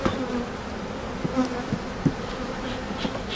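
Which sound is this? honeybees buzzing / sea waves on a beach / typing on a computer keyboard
honeybees buzzing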